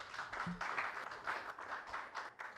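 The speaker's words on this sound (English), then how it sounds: "A good round of applause again for him." Applause from the audience at a Kenya Diaspora Homecoming Convention, a steady round of clapping that fills the hall at moderate level for its full length, with no voices over it.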